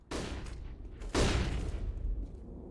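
Mac-10 submachine gun bursts in Counter-Strike on the Overpass map, with two loud rapid volleys, the second heavier and sustained, crackling close and up front.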